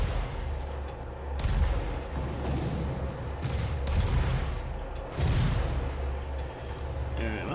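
Weapon fire and explosions from the 2016 PC game Doom, a dense, loud barrage of shots and booms continuing throughout, with surges of heavier blasts amid rumbling game noise.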